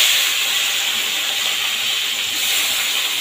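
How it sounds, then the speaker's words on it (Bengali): Prawns and slit green chillies frying together in hot oil in a home kitchen, giving a loud, steady hiss and sizzle that runs unbroken and close throughout. "একবারে আমার চিংড়ি মাছ কাঁচা লঙ্কা একসাথেই ভাজা ভাজা হয়ে যাবে"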